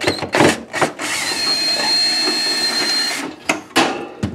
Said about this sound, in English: There's two screws in here, quarter inch, that have to come out.